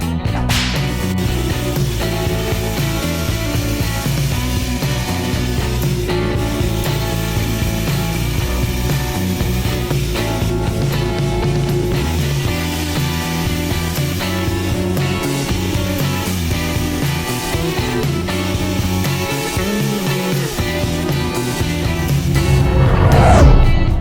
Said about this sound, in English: back over the old bandsaw